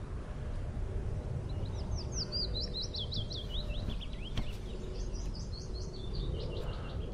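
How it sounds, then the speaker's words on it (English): Birds chirp in a quiet London street, a run of quick high twittering calls repeated through the middle, moderately close, over a low steady rumble of distant traffic and aircraft. "All you hear is the birds and a distant aircraft flying into Heathrow"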